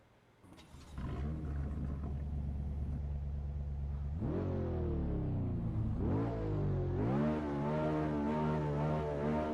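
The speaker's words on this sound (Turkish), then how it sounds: "birazcık sesi yükseltip oyunun o arabanın sesini duymanızı istiyorum" A Tofaş Şahin engine in a video game idles low, then revs up in repeated rising surges, loud and close with a steady roar between pushes.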